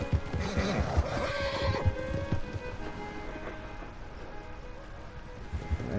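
A loud horse whinny rises and trails off over clip-clopping hooves and a steady ambient background, with no voices, in the video game Red Dead Redemption 2.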